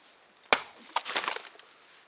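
A Muela Magnum 26 knife chops through a 1.5 litre plastic water bottle: one sharp, close impact, then a short burst of crackling, splintering plastic that fades out. No talking.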